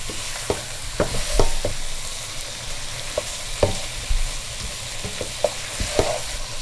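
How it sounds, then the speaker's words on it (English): Dry parsley sautéing in a pot for a Persian celery stew makes a continuous sizzling hiss, broken by frequent clicks and knocks of a spoon stirring, close and fairly loud, with no voices. "we add the dry parsley and saute a little bit"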